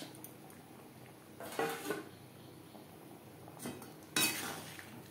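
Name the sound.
fish being added to gravy and stirred in pan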